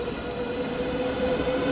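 A high-speed train on the Southeastern High Speed Extension in Train Sim World 3 runs with a steady rumbling drone and a sustained tonal hum, constant and close throughout with no voices.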